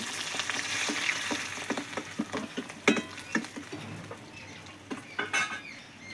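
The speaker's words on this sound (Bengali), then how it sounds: "মাছের মাথা আমার লাল লাল করে ভাজা হয়ে গেছে। আমি এবার তুলে নিচ্ছি।" Fried fish heads are lifted from a sizzling pan of hot oil, with a steady fry hiss and repeated clinks and scrapes of a metal utensil against the wok.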